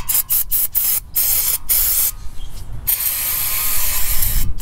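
An aerosol can sprays in short hissing bursts, then in longer continuous blasts, close and loud, with faint rattling in between, while the transmission pan of a Mercury Grand Marquis is serviced.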